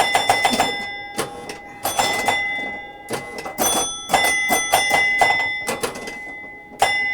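Bells ringing on a Williams Honey pinball machine, loud metallic dings struck in quick clusters, ringing on with sustained tones between rapid repeated hits.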